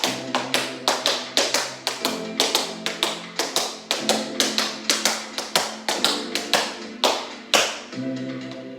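Crisp, rhythmic tap dance steps strike a hard floor in quick, steady patterns, loud and close, with occasional brief pauses.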